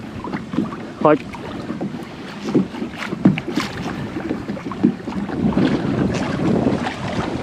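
A pedal-drive fishing kayak is pushed hard through the water, giving irregular splashes and sloshing over steady wind noise on the microphone, with one brief spoken word near the start.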